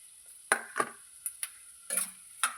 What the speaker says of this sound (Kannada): ಚೆನ್ನಾಗಿ ಎಣ್ಣೆ ಫ್ರೈ ಆದಮೇಲೆ ಕ್ಯಾಪ್ಸಿಕಮ್ ಹಾಕೋಣ.